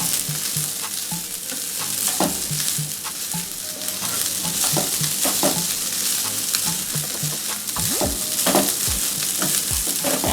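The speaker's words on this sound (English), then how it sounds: "And then I'm going to cook my rice for about a minute." Shrimp fried rice sizzles steadily in a hot pan while a spatula scrapes and stirs it in repeated strokes, loud and close with no talking.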